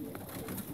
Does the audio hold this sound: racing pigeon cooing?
yes